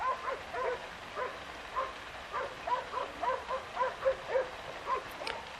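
Hunting dogs barking and yelping during a wild boar hunt in Anatolia, a run of repeated mid-distance barks in irregular bursts over faint background noise.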